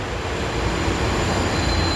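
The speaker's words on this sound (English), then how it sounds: "train 0 is arriving, heading for Ashburn" A WMATA Metro train arrives at a station on the way to Ashburn, a steady loud rumble of wheels on rails with a faint high squeal over it, continuous and close, without voices.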